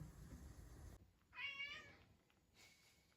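A ginger cat meows once, clearly and close, in a quiet kitchen, followed by a fainter short sound.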